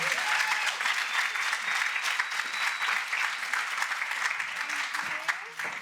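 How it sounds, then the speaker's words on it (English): Steady, dense applause from an audience fills the whole stretch, loud and continuous, with a faint whistle or cheer rising briefly over the clapping. "Give her a round of applause."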